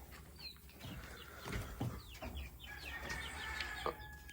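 A four- to five-month-old pair of bantam white crested blue chickens, a cockerel and a pullet, cluck softly nearby with several short chirpy calls over quiet background.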